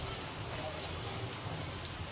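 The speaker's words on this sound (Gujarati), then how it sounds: "આવી ગયો 2023 નો પહેલો વરસાદ" Steady rain falls for the first time in 2023, making an even, moderately faint wash of patter with no distinct drops standing out.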